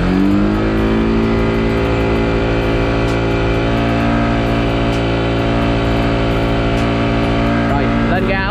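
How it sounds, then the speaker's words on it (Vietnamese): A used Honda Winner motorcycle engine revs and holds at a steady raised throttle, a close, continuous mid-pitched drone with a faint rise near the end and a voice speaking over it. "Lên ga một xíu để kiểm tra nha."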